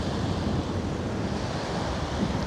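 Wind blows steadily across the coast at the Werribee river entrance, a constant broad rushing roar mixed with surf-like noise and buffeting on the microphone.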